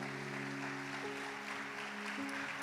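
A church congregation claps steadily throughout a worship service while a sustained organ or keyboard chord plays underneath, the applause a continuous dense wash.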